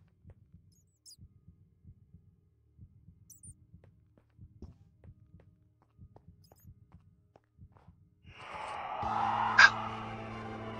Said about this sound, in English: Heartbeat's going pretty fast.